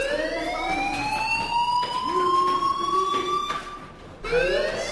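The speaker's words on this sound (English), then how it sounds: "Hey, do you hear that fire alarm?" A rising-and-falling electronic fire alarm wails through a school in the Life is Strange video game, its sweeping tone repeating steadily and loudly with a brief dip near the end.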